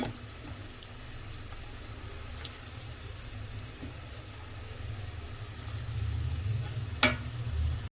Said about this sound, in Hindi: चिकन फ्राई हो रहा है, हल्की आंच पे फ्राई करना है